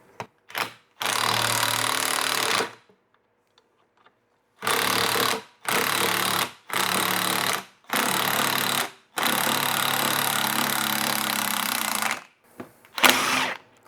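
Repeated bursts of a power tool driving a nut on a puller while working on a 1974 Ford F100 truck, about six loud buzzing runs of one to three seconds each, separated by short pauses, close up with no talk.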